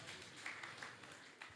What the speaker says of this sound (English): let's clap for him in absentia